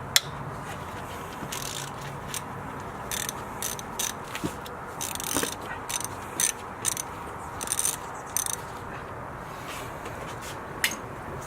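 Ratchet clicking away at 10mm alternator bolts on a 2005-2009 Ford Mustang GT, a string of short, quick mechanical clicks in uneven bursts, close up, with no talking.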